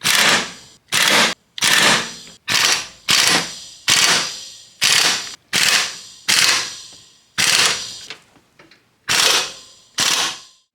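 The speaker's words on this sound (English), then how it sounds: "I'm just gonna run it through with an air impact" An air impact wrench rattles in loud, sharp bursts while running in bolts on a 2007 Toyota Highlander Hybrid during a timing belt job, about a dozen short hammering bursts with brief silent gaps between them, close to the microphone.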